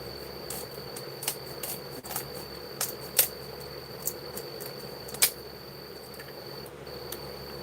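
Cricket chirping in a reptile enclosure, a steady high trill with several louder, sharper chirps standing out near and clear against a quiet room hum.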